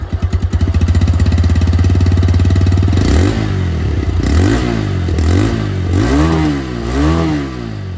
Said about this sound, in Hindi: चलिए एग्जॉस्ट साउंड में आप लोगों को सुना देता हूँ।